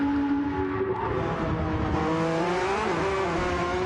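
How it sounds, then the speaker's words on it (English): Race cars at the Nürburgring 24-hour race, their rear tyres squealing under hard cornering, heard as a steady, loud, wavering high-pitched howl blended with continuous engine roar, with no voices. "as we're listening, torturing them rear tyres there"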